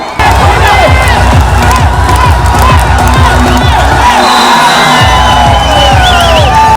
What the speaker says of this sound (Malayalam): അതിനൊത്തുയരുകയാണ് കയ്യടികളും ആർപ്പുവിളികളും